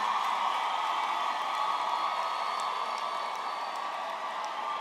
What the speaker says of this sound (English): let's give a big round of applause for the graduating class of